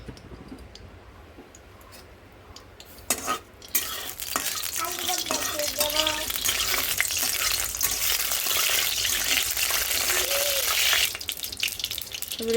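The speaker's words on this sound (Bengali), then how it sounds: "এবার সর্ষের তেল দিয়ে দেবো।" Mustard oil sizzles loudly in a pan with cumin seeds, a steady bright frying hiss that swells and holds after a few clicks and stirring sounds.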